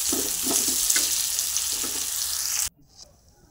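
A cauliflower and potato curry sizzles and bubbles in a pan on a home stove, a close steady frying hiss with soft stirring knocks that cuts off abruptly near the end.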